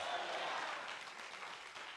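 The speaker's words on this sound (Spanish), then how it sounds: "Yo no sé si usted es capaz de darle un aplauso fuerte al Rey de Reyes" Church congregation applauding, a dense wash of many hands clapping that fades slightly over two seconds, fairly distant and steady, with faint voices mixed in.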